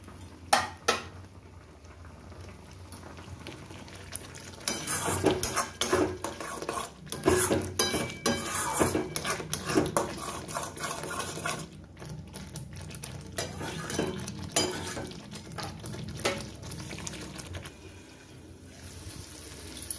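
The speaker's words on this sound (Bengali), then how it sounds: "সব উপকরণ দিয়ে আমি 3 থেকে 4 মিনিট একটু ভালো করে কষিয়ে নেব।" Spice paste with cashew, almond and sesame being stir-fried in a pan, with a utensil scraping and clinking against the metal in irregular bursts over a soft sizzle, close and fairly quiet.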